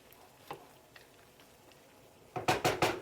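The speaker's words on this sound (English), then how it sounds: "Give it a quick stir." A few light metallic clinks and scrapes of sauce being stirred in a pot, ending with a quick run of louder clanking strokes.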